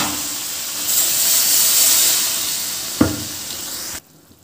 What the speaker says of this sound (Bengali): এবার গরম জলটা দিয়ে দেবো